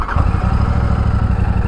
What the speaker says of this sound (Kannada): ಇಂಜಿನ್ ಸೌಂಡ್ ಈ ಥರ ಕೇಳಿಸುತ್ತೆ,